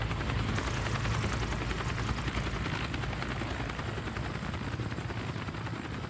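Helicopter flying in the TV drama Chernobyl, producing a loud continuous rotor thump and engine roar that fills the whole clip without letting up, with no voices.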